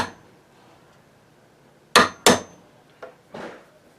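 A hammer taps a chisel while a mortise lock is fitted by hand, two sharp close strikes followed by two lighter taps, in a quiet room.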